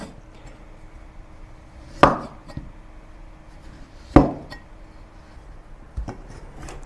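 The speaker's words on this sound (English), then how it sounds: "And chop the zest of the lime coarsely." Kaffir lime zest being coarsely chopped with a knife, with three sharp knife strikes on a board spaced about two seconds apart and faint rustling between them.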